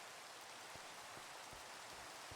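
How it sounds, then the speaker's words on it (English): Steady rain in the game Istoria: a soft, even hiss of falling drops with occasional faint patters, continuous and quiet. "The rain is calming."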